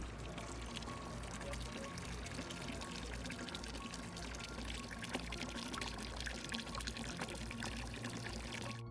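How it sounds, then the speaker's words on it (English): Meltwater flood pouring into a village in Russia, a dense continuous roar of rushing, splashing water, steady and loud throughout with no talk. "A meltwater flood pours into Yambulatovo in Russia."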